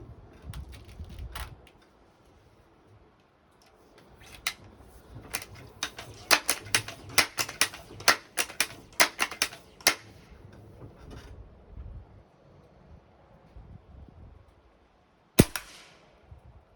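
A Seneca Dragonfly pump air rifle is worked with a quick, rhythmic series of close mechanical clicks, then after a pause a single sharp crack as it fires at a target 25 feet away.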